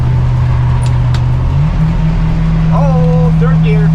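A motorhome engine drones steadily after a downshift to third gear, a low continuous hum that rises slightly in pitch partway through, with a voice speaking over it.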